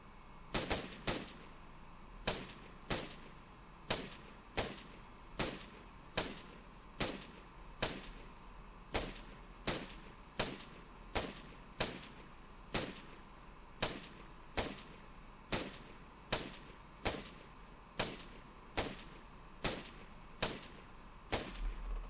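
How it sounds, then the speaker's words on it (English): Rifle rounds fired in the Arma 3 video game ring out as sharp, loud reports at a steady pace of roughly one per second, with a few quicker pairs early on, each shot clear and alone. "I want you to send 2 or 3 rounds quickly, and then after that, 1 round at a steady pace every second or so"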